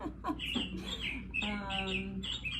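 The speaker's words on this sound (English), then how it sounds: "The clock of the bird chirps startled me." Recorded birdsong from a bird-themed clock, a short run of bright chirps and a trill heard close, with a clucking, fowl-like quality.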